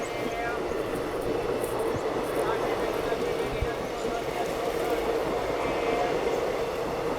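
A Bangalore–Anantapur MEMU train rolls along with a steady, even rumble heard from on board. Someone speaks over it throughout.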